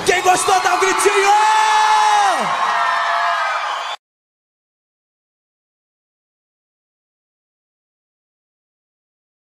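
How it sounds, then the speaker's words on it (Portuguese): A crowd at a forró show whoops, yells and shouts loudly together for about four seconds over lingering music, then cuts to silence. "Quem gostou dá um gritinho."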